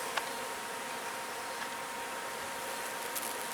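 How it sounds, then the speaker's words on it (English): A bee hums steadily and softly, a continuous low-level drone without breaks against a hushed outdoor backdrop. "That's some kind of bee."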